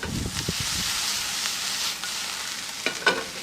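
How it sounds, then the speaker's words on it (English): Napa cabbage sizzles steadily in a hot pan over medium-high heat, a constant crackling hiss with occasional soft stirring clicks close by. "And you can hear all that sizzling."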